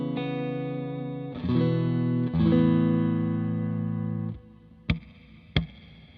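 Clean electric guitar through a standard reverb pedal with only a compressor also on: sustained chords ring out with a lush reverb tail, then two short plucked notes follow, played alone with no talking.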